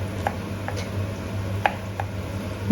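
Garlic, onion and tomato being chopped into small pieces on a board: a handful of light, sparse knife taps over a low steady hum.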